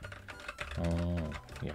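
Typing on a Logitech MX Mechanical Mini low-profile mechanical keyboard: soft, quick key clicks at close range, briefly under a speaking voice.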